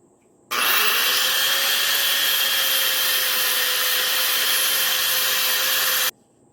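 A power grinder cuts into a wooden axe handle, one close, loud continuous whining grind that starts abruptly, holds steady for about five and a half seconds, then cuts off.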